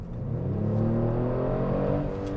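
A 2022 Kia Stinger GT engine in sport mode drones steadily from inside the cabin, a deep layered intake hum piped in through the speakers that rises slightly and holds, loud and close with no talking.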